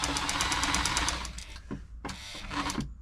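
A Bernette b35 sewing machine under service, running fast on a zigzag stitch, with a rapid mechanical clatter that slows and stops, then restarts in a short burst, close and loud.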